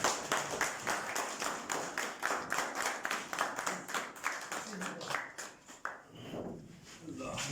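An audience claps at a State Life Insurance meeting in Kot Jamel to welcome the zone leader, in a fairly steady, moderately loud burst that fades toward the end.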